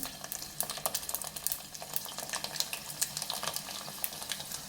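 A handful of garlic cloves fry in oil in a pan over low heat for an okra curry, giving a steady close crackle and sizzle with bright spitting pops throughout and no talk.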